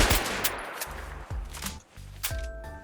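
M4 rifle in a Minecraft Bedrock weapons addon emptying a full magazine, a rapid string of sharp, close gunshots, evenly spaced and heard alone.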